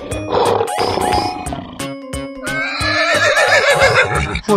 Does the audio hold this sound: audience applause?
no